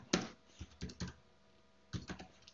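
Typing on a computer keyboard while entering a value into Python code, a few quiet, close key clicks in two short bursts with a pause between.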